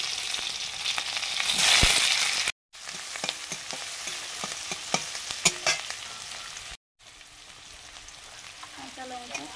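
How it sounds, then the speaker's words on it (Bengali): Vegetables such as Malabar spinach and pumpkin fry in mustard oil, with a loud close sizzle and crackle, bursts of stirring, and two brief dropouts breaking the sound. "পুঁই শাক কুমড়োর তরকারিটা রান্না করছি সরষের তেল দিয়ে"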